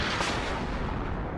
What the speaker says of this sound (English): Artillery goes out.